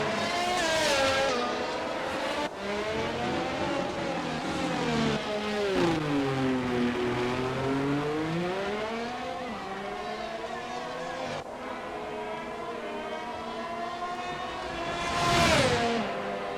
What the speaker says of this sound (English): the loud sounds of screeching tires coming into turn one as we struggle to stop the car for the very sharp corner